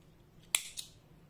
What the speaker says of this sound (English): I am making one chain and cutting the yarn